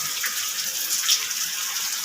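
Heavy rain pouring into a house, a dense even hiss of falling water close by, steady throughout with no voices.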